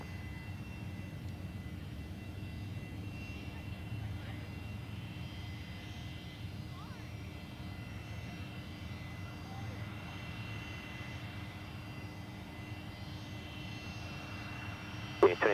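Aircraft engine roar from a departure at Perth Airport, a steady broad rumble holding throughout at moderate distance, with faint radio chatter under it.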